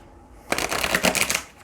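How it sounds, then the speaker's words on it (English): A deck of tarot cards is shuffled once, a quick burst of riffling flutter close to the microphone after a brief quiet pause. "Let's get one more good shuffle."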